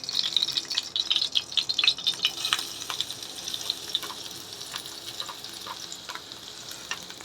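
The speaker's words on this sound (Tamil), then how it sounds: "பூண்டு நல்லா பொரிச்சு எடுத்துக்கலாம்." Garlic fries in hot oil on a stovetop, a steady close crackling sizzle with bright spatters and occasional stirring clatter throughout.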